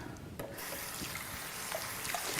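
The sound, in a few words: rinsing a plastic food replica bun in running water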